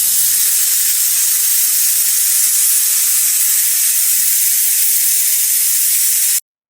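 Steam jets loudly and steadily from a pressure cooker whistle while beef cooks with masala, a sustained close hiss that runs for several seconds and then cuts off abruptly.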